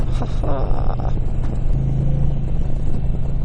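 A 2020 Indian Challenger motorcycle engine under way, a loud continuous low rumble and drone that stays steady for the whole stretch.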